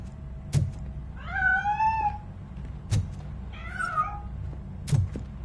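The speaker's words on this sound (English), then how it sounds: "That cat must be hiding inside." A cat hidden inside a piano gives two drawn-out, wavering meows, each set between sharp thumps that land at roughly two-second intervals, heard fairly close with a low rumble underneath.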